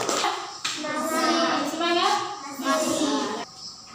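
A classroom of children claps for a student group, a brisk burst of hand clapping mixed with excited young voices, cutting off abruptly near the end.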